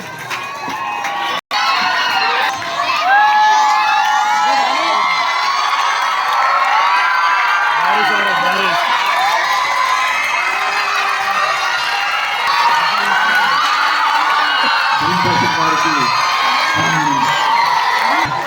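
A large crowd of school students cheers and claps at a ceremony honouring transferred teachers, with continuous loud whoops and shouts of children over scattered applause, near and sustained, and some voices calling out within the din.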